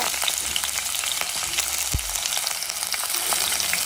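Ginger sizzles steadily in hot oil in a pan for a curd curry, a continuous close frying hiss with a brief stir near the middle.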